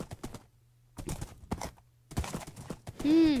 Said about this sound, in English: Best horse ever.